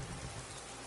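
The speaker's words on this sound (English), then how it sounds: "Why is it always raining?" Rain falls steadily in Skyrim as a soft, even hiss of drops with no other sound, brief and faint.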